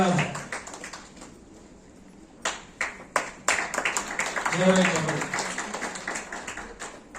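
An audience at a Dalit organization's anniversary event breaks into clapping, starting with a few scattered claps and building into sustained applause, with someone speaking over it.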